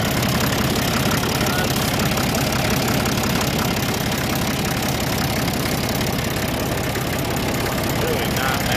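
A 1961 Case 930 diesel tractor idles steadily with a little blow-by, a continuous close mechanical rumble and knock that runs without letup.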